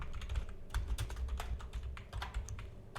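Rapid typing on a computer keyboard while entering code, with quick, irregular key clicks close by and a steady rhythm throughout, alone without speech.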